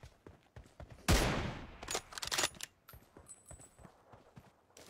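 A burst of gunfire in a shooting video game rips out loud and sudden, followed by scattered sharper shots and small clicks that trail off into quieter game ambience.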